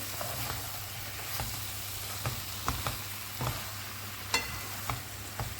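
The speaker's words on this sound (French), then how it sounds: "Ensuite, on va rajouter la crème." Cream poured over Jerusalem artichokes cooking in a pan, a soft steady sizzle with a low hum beneath and scattered light scrapes and taps of a utensil stirring, close up and without speech.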